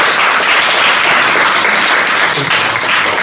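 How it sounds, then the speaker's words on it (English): A room of people at a panel session gives a round of applause, with loud, dense, continuous clapping and faint voices mixed in beneath. "round of applause"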